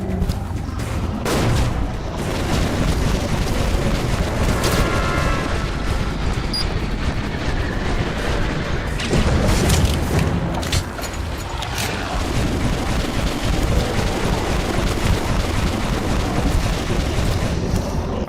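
In the video game Metro Last Light, a grenade explosion booms amid loud, dense gunfire, with several heavy blasts and crackling volleys spread across a chaotic firefight.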